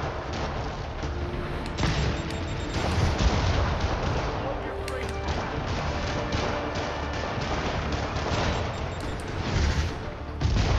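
Rockets and grenades blast one after another through a Spider-Man Remastered combat scene, a dense barrage of booming explosions and gunfire rolling on continuously with little pause.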